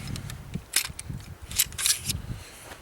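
A Sig Sauer P226 MK25 pistol is taken apart, giving a string of sharp metallic clicks and sliding clacks at irregular intervals, close and moderately loud over a low background hum.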